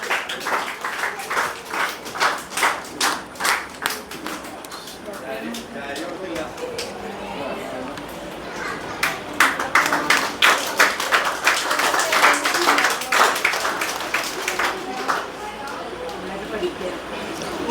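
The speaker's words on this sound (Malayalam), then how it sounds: "എല്ലാവരും നല്ലൊരു കയ്യടി കൊടുത്തേ കൊച്ചുങ്ങൾക്ക്" An audience claps for children at a residents' association award ceremony for SSLC and Plus Two students. The applause comes in rhythmic bursts and swells, and voices chatter throughout.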